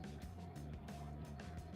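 Car interior noise captured on a voicemail recording: a steady low engine and road rumble inside a moving car with a faint radio playing, muffled and continuous.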